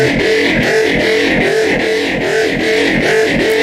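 Heavily driven synth bass with LFO modulation pulses in a steady, throbbing rhythm, thick and distorted, loud and continuous with no voices.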